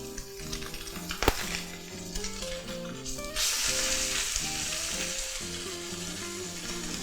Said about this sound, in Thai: นอกจากจะทอดปลาแล้วผมจะทอดหน่อไม้ฝรั่งด้วย